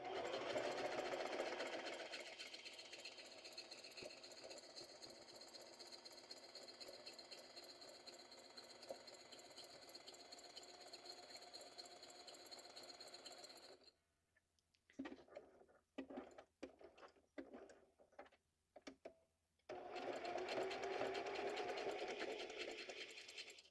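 Sewing machine running with loosened tension and lengthened, widened stitches, a sustained buzzing hum for about fourteen seconds, then several short stop-start bursts, then another steady run near the end.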